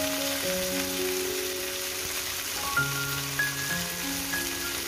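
Crushed garlic drops into hot oil while cooking a simple chicken thigh steak, giving a steady close sizzle with faint tonal whines and a couple of small clinks, no talk.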